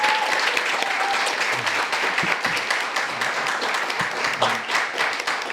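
Forum audience claps for a speaker at a Korean citizens' democracy debate, a steady wash of many hands clapping at moderate volume, continuous for several seconds with a few individual claps standing out.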